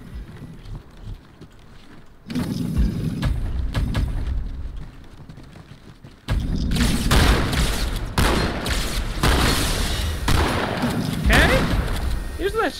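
Gunfire from the Halo 2 campaign video game, including shotgun blasts, erupts in bursts of loud booming shots and battle noise after a quieter opening, with a player talking over the action.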